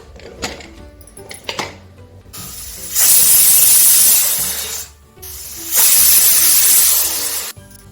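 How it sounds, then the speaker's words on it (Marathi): Pressure cooker on the stove, cooking dal with turmeric and oil, vents steam in two loud, sustained hissing bursts of about two seconds each, preceded by a few soft kitchen clanks. "आता आपण झाकण लावून तीन शिट्ट्या कुकरच्या होऊ देणार आहोत"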